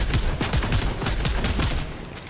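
A rapid burst of gunfire in Fortnite ranked solos crackles in quick succession, sharp repeated shots for about two seconds, fading slightly at the end.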